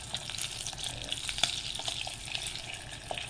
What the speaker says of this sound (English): it's time to cook this. Some tulip luncheon meat